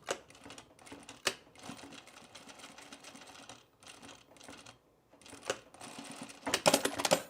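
A sewing machine stitches an enclosed seam on a Sylvan Jacket, running close in rapid rattling bursts separated by short pauses, with sharper clatter near the end.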